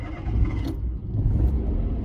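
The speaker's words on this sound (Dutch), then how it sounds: "Oh, de auto doet het ook niet." A car engine being cranked without catching: a steady low rumbling churn up close, with two brief rougher surges partway through and no voices over it.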